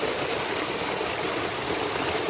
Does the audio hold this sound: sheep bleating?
no